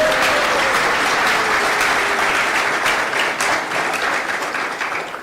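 An audience applauds at a poetry book launch ceremony: dense, steady clapping that holds through most of the clip and gradually thins out toward the end.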